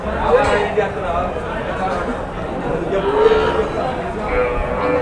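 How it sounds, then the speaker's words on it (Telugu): Buffaloes low loudly and repeatedly amid a busy crowd of chattering voices at a cattle market in Krosuru, close by and continuous. "ఇవన్నీ నాటు గేదెలండి"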